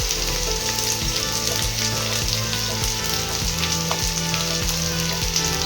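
Chopped onion frying in a little hot oil, a loud, steady close-up sizzle with a dense crackle and faint regular taps running through it.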